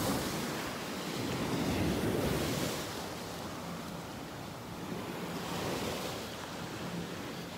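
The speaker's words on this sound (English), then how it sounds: "I am just loving the sounds of these waves up here." Continuous ocean surf washing onto a beach in North Naples, Florida, a broad steady roar swelling and fading gently, with some wind noise and no voices.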